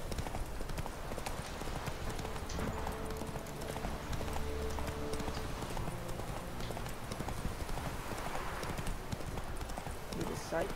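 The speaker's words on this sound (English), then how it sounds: "Giddy up, horsey!" Horse hooves galloping in The Witcher video game, a fast, continuous clip-clop rhythm of the horse Roach running, with a voice talking over it.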